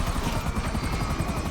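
A helicopter in the GTA V video game hovers close by, its rotor thumping in a fast steady chop that dominates the brief moment.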